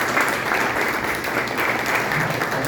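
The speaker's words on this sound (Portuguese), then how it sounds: "dando uma salva de palmas para o Senhor Jesus" A church congregation at a Sunday evening service applauds in a dense, continuous round of clapping that holds loud and steady, with a faint murmur of voices underneath.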